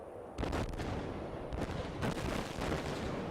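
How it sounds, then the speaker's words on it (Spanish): An explosion bursts out across a snowy landscape, a sudden crack followed by rolling, crackling blasts and further sharp reports, moderately loud with no voices over it. "Una explosión ocurre."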